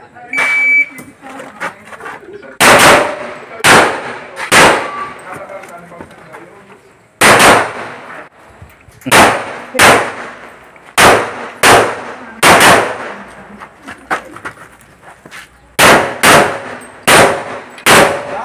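Gunshots fire in quick overlapping volleys at an outdoor gun club shooting range in Mabini, Batangas, loud sharp cracks repeating in irregular clusters with echoes, and people talking in between.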